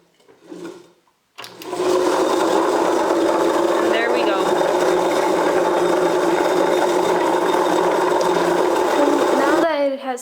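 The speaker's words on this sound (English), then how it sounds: "Has started blending." A kitchen blender grinds rice as part of making modakas, a loud, steady whirring drone that runs almost without a break after a brief quiet start.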